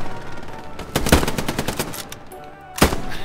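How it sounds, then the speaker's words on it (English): Enemy machine gun fire in the World War II shooter Hell Let Loose, with sharp bursts of rapid shots cracking out over steady battlefield noise and a final lone loud report near the end. "Yeah, that's an enemy MG, like, just south of my position"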